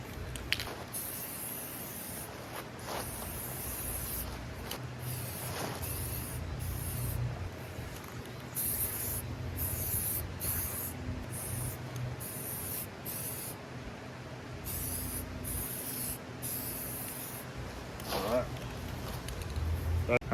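Spray paint primer hisses onto a truck in a series of close spray bursts with short gaps between passes, repeating over about twenty seconds.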